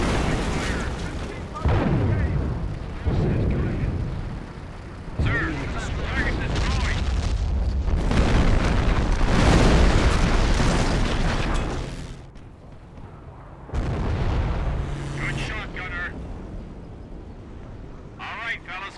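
Heavy artillery barrage in the World War II strategy game Company of Heroes, at Hill 112: dense overlapping booms and blasts that roll on for many seconds, briefly dropping away before firing resumes, with voices talking over the bombardment.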